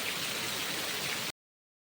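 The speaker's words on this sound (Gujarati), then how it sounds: "અને હજી સામે એટલો વરસાદ આવે છે." Heavy monsoon rain with big drops pours steadily onto a farm and roof eaves, making a dense, even hiss that stays loud for just over a second and then cuts off abruptly.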